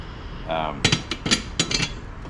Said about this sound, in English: It comes right off with a screwdriver and a hammer